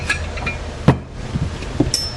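Metal chain being handled while rigging a 1971 Camaro SS radiator core support, giving a few brief close clinks and rattles against a quiet background.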